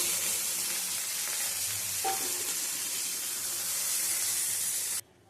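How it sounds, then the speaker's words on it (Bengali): Okra sizzles steadily in hot mustard oil in a kadai, a constant loud hiss with a faint stir partway through, then it cuts off abruptly. "ঢ্যাঁড়সগুলো দিয়ে ভেজে নেব বেশি ভাজবো না হালকা করে ভেজে নেব"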